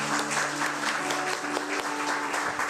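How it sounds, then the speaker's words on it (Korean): Warm applause rises from a church congregation at an Easter Sunday service, welcoming a visiting pastor with steady, even clapping from many hands, close and full with no voices heard. "우리 박수로 환영해 주시면 좋겠습니다."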